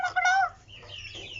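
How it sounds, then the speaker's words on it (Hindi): A hen clucks in a short burst of several harmonic calls, fairly close and loud, then fades into quieter breathy rustling with low background hum. "मुर्गी कुकड़ू कुकड़ू करती है"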